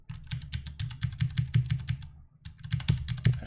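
Rapid keystrokes clatter on a computer keyboard, close and crisp, in two quick runs separated by a brief pause, with no talking.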